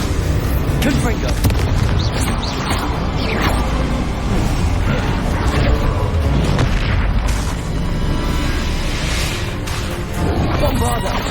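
Repeated fiery blasts of the Confringo fire spell in the Hogwarts Legacy video game, booming bursts over dense continuous combat noise and music, loud and near throughout, with speech-like voices mixed in.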